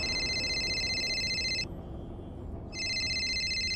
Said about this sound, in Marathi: ताईचा फोन आहे.